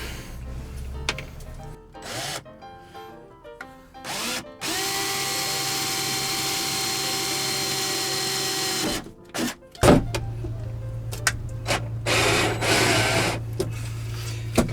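A power drill drives screws to fit van-x curtains inside a VW T6 Transporter camper van, giving a long steady whirring run mid-clip that is set among shorter bursts, clicks and handling knocks, all close up.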